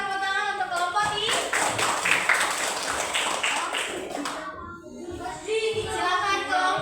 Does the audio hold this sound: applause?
yes